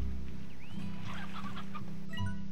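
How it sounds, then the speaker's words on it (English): Hens clucking in the game Slime Rancher, soft repeated clucks and a rising chirp over a steady droning musical background, fairly faint and with no talking. "Let's grab these hens."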